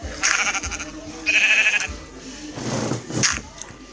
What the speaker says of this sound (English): The sheep are attracted to the wheat.